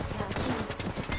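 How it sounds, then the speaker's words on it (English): Automatic pistol fire in Apex Legends, a dense, loud stream of rapid shots running throughout the short clip amid busy battle noise, with some speech mixed in. "this brave dude's good with that automatic pistol"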